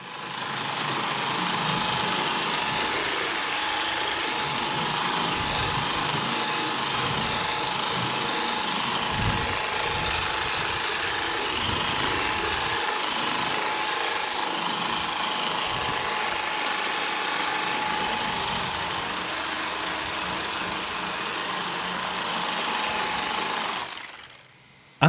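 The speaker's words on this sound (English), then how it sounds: "it was worked into the larger panels with the Flex Direct Drive Random Orbital Polisher at a medium speed" A Flex Direct Drive random orbital polisher running at medium speed across large car body panels, a steady close whirring drone that holds unbroken for about twenty-five seconds before cutting off abruptly.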